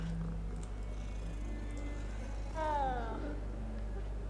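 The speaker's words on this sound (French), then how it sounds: "Il ronronne et tout" Cat purring in the video game Hogwarts Legacy, a low steady rumble held throughout, with a short meow-like cry partway through and faint background ambience.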